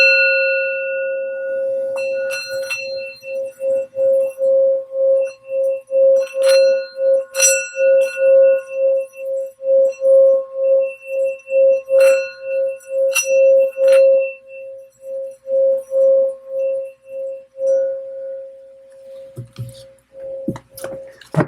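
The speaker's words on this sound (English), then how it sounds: "I'm going to ring the sound bowl" Sound bowl rung repeatedly, a sustained pure ringing tone pulsing with steady slow wavering, joined by brighter metallic strikes and shimmer, fading near the end into brief scattered clatter.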